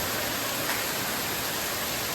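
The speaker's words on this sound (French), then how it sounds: "Il pleut pas rien qu'un peu." Heavy rain falling in a mountain forest in the national park: a dense, steady hiss of downpour with no pauses, close and constant throughout.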